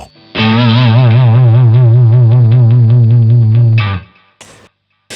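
Guitar played through an LPD Pedals distortion pedal: one sustained, loud distorted chord ringing with wavering vibrato for about three and a half seconds, then cut off, followed by a brief muted scrape.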